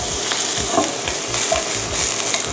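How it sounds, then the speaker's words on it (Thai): Shiitake mushrooms and shrimp stir-fried in a pan give a loud, continuous sizzle with quick, steady scraping strokes, heard close up and alone without any voices. "ผัดจนเห็ดสุกนะคะ"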